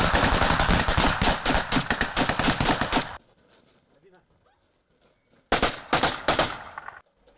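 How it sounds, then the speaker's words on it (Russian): Rapid simulated gunfire and blasts from military training ring out loud and dense for about three seconds, fall to a quiet lull, then return in another heavy burst of shots. "Имитация максимально приближена к реальным боеприпасам. Это начинаешь понимать, когда взрывы оглушают, разлетаются камни и песок"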